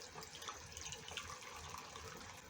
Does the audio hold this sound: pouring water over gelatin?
yes